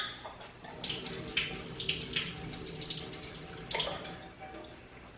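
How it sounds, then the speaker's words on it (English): Brine drained from a can of sliced olives pours and trickles into a sink in a home kitchen, a steady watery splashing with small drips, fairly close, for about five seconds. "we need to do some sliced olives. I'm gonna drain some of this."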